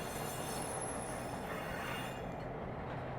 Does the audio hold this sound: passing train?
yes